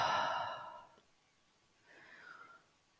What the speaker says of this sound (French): nous prenons quelques respirations profondes